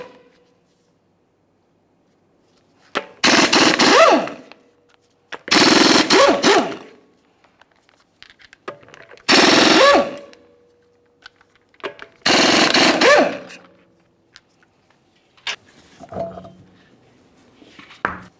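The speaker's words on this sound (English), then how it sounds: "let's continue on to removing all five of our 22 millimeter lug nuts and then the wheel" Five 22 mm lug nuts spun off a front wheel of a 2011-2021 Jeep Grand Cherokee with a power tool, heard as loud, separate rattling bursts of a few seconds each, split by silence, with lighter clinks near the end.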